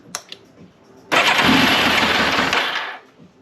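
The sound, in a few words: Yamaha FZR 1000 motorcycle engine starting after carb tune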